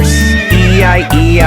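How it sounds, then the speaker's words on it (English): A cartoon horse neighs in a children's nursery rhyme about a zoo, giving loud, bright whinnies with a break in the middle, set over the song's backing music. "And in the zoo he met a horse"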